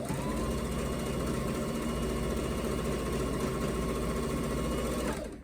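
A sewing machine chain-pieces a rag quilt seam about half an inch wide, its steady, close, fast mechanical whirr running without a break for about five seconds before it stops abruptly.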